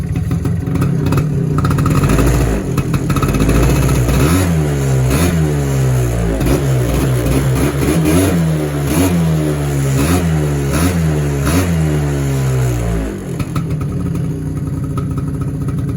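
A small two-stroke engine on a four-wheeler ATV revs repeatedly close by. The whining pitch rises and falls in a steady cycle of throttle blips, then settles toward idle near the end.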